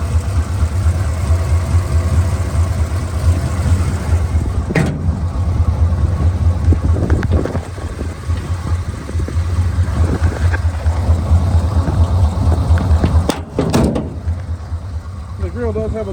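A 1975 Jeep CJ5 Renegade with a 304 V8 idles steadily up close, a low rumbling hum that runs throughout with a couple of brief clunks on top.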